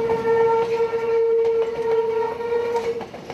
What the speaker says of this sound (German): Nasse Räder sollen das laute Quietschen in den Kurven mindern.